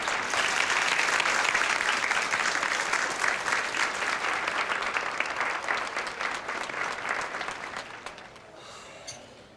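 A concert crowd applauds steadily, a dense patter of many hands clapping that holds for several seconds and then tapers off near the end.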